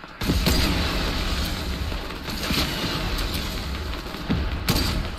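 Booming explosions and scattered gunfire in a Fortnite match, several heavy blasts punctuating a continuous loud background of combat noise.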